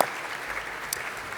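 Audience applause fills a conference room at a general debate, a steady, dense patter of many hands clapping at moderate distance, continuous for about a second and a half with no voices over it.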